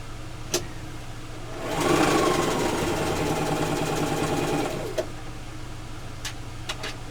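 A sewing machine runs a continuous stretch of stitching on quilt patchwork for a nine-patch block, a steady close whir lasting about three seconds, framed by quiet room hum and a few small clicks.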